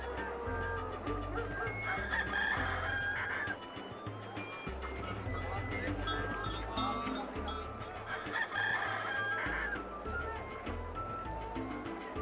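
A rooster in The Longest Journey adventure game crows and clucks repeatedly in short bursts, close and clear, over a low, steady musical background.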